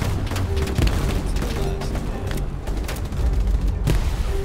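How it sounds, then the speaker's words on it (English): Battle in the World War II shooter Hell Let Loose, where a grenade blast sits among repeated booms and gunfire. The heavy explosions are loud and close, with a sharp burst near the end. "I got hit with shrapnel from a grenade"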